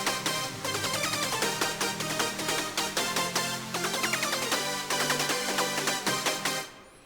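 A sawtooth synth in Surge XT plays together with a percussive effect layer, a thick bright chordal line driven by fast punchy pulses, loud and continuous before tailing off at the end.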